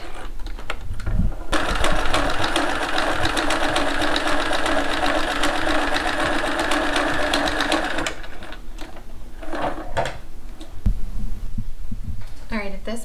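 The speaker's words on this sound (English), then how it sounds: "do the back stitch to give it a little extra strength on those corners" A sewing machine back-stitches the corners of a one-piece boxed cushion cover, running in one steady, close mechanical whir for several seconds, with brief quieter handling before and after.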